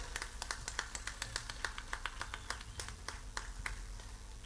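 An audience at an outdoor beer festival rock concert claps for a band member, giving a steady rhythmic run of hand claps over a dense crowd murmur.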